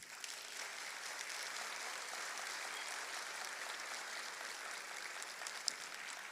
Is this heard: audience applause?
yes